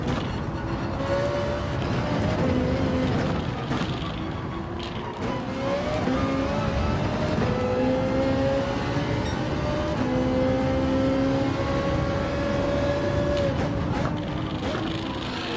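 Ferrari race car engine in Gran Turismo, droning loudly and continuously as it revs up and shifts through the gears.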